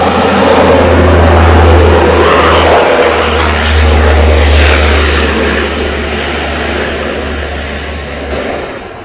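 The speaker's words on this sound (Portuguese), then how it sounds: "Esse avião barulhento é americano." A noisy American propeller airplane roars loudly and close, its heavy low engine drone steady at first and then slowly easing off, with no talking.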